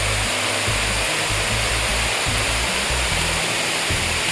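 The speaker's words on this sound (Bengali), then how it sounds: "জলের আওয়াজ শোনা যাচ্ছে, মানে খুব কাছাকাছি এসে গেছি" Bendaobaglai waterfall in Assam's Dima Hasao hills, a steady broadband roar of rushing water close by, continuous throughout with a low rumbling undertone and no voices.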